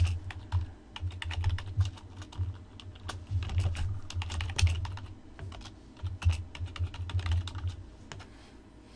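Rapid, steady keystrokes on a computer keyboard, close and clear, with irregular bursts of clicking and short pauses, no talking.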